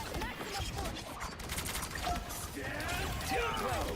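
Rapid bursts of video game gunfire crackle through a busy battle mix with shouted game dialogue, rising louder toward the end in a raccoon-themed game.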